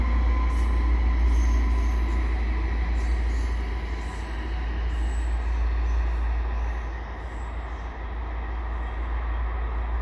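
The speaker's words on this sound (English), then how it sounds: "Sounds like I got a Via train coming." Passing trains at Falaise St Jacques in Montreal West, an EXO commuter train and a Via Rail LRC, give a steady, loud low rumble of wheels and railcars that swells and eases across the span, with faint high squeal above.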